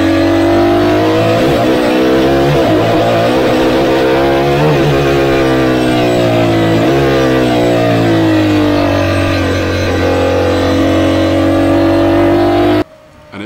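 Aston Martin Valkyrie V12 hypercar engine, a loud sustained roar that rises and falls through revs, close by and heard alone until it cuts off abruptly near the end.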